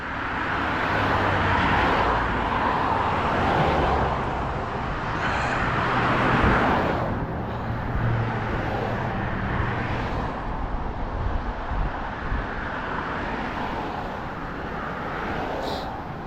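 Steady road traffic hums along a street on a walk in Maine, with a continuous wash of car engines and tire noise and occasional nearer passing vehicles, no talking.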